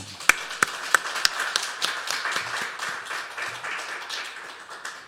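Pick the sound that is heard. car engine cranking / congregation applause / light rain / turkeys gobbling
congregation applause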